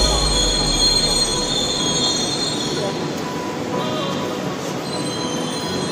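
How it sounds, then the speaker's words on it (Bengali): A metro train pulls into a station with a loud, close, steady squeal of wheels on rails and a rumbling car body that runs throughout without a break. "ফাইনালি মেট্রো চলে এসেছে,"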